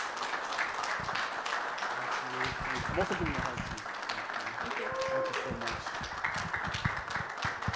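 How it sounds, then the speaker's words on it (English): Sustained graduation audience applause, dense steady clapping filling the room throughout with a voice faintly over it. "And keep going with applause."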